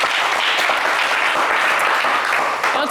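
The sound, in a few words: applause for a game show contestant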